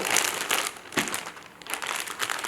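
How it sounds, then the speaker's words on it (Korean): A banana is squeezed inside a plastic bag, giving several crisp crinkling and rustling bursts of plastic, close up and fairly loud, with brief lulls between squeezes. "선생님은 지금 비닐에서 바나나를 넣고"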